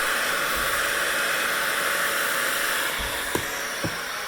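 A handheld hair dryer blows steadily while drying a section of hair, a loud, even airy roar running throughout, with a couple of faint knocks near the end.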